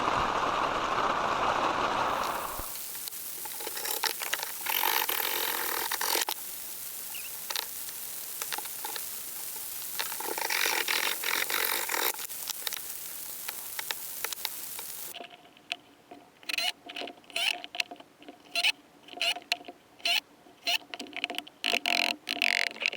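Steady rain patters and hisses on an off-grid cabin build site for a long stretch, easing midway, then gives way to scattered, irregular drips and taps near the end.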